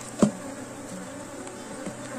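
A honeybee colony hums softly at an opened hive during a swarm check, a steady low drone with one brief louder thump near the start, no voices.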